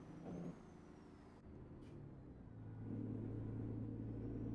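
A truck's Jake engine brake in American Truck Simulator rumbles low and steady, building to a deeper, louder drone toward the end, heard from outside the cab.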